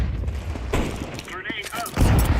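Grenade throw and blast amid gunfire in a Counter-Strike professional match, with sharp bursts, a booming hit and crackling impacts over busy game noise and caster chatter.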